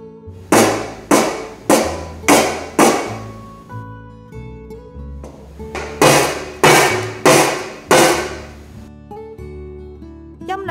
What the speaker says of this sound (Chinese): 我哋再睇多次两次敲打罐面时小豆跳动嘅幅度